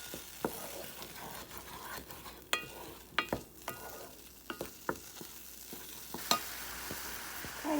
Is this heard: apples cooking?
yes